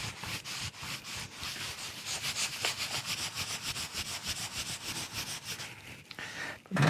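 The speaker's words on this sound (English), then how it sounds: "in the next shot, you'll see me polishing" Hand polishing of a Pango Stratocaster electric guitar kit body gives a steady, close rubbing and scrubbing sound in quick repeated strokes that continues throughout with no speech.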